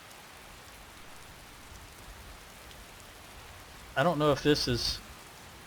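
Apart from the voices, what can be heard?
rain falling in the video game Skyrim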